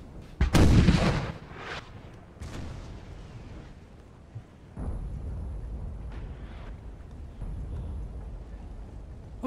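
Cannon fire in the Napoleonic-era strategy game Napoleon Total War: a loud artillery boom up front, then more distant gun reports and a rumbling battlefield din.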